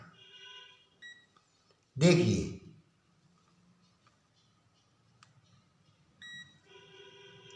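A multimeter in buzzer mode beeps while a capacitor in an LED TV power supply is tested: a few short electronic tones, with a brief louder clatter and a speaking voice in between.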